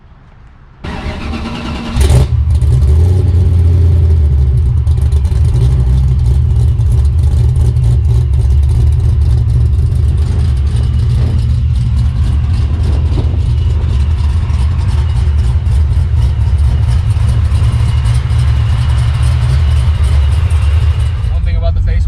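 Procharged Mustang street car with over 1000 horsepower, a 9-second drag car, fires up with a sharp burst, then a loud, deep engine rumble holds steady and close throughout as it pulls away.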